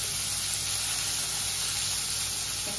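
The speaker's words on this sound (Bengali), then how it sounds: "চিকেন স্যুপ বানাচ্ছি।" Chicken soup cooking in a pot gives off a steady, continuous hiss and gentle sizzle of steam, holding an even level throughout, with no talking.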